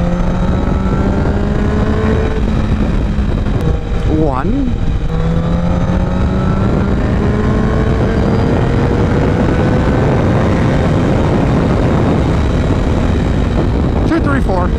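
A car's engine drones steadily and loudly from inside as it overtakes four trucks on the road, with pitch sweeps rising and falling as the vehicles are passed; someone talks over the noise throughout.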